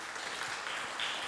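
Light applause from a church congregation honoring Christ, a soft, steady patter of clapping at moderate distance with no voices over it.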